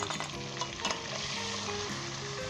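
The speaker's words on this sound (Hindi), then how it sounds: "अब हम इसके अंदर मसाले डाल देंगे" Boneless chicken for Lahori biryani fries in a pot as spices go in, giving a steady close sizzle with scraping stir strokes and a few clinks. No one speaks.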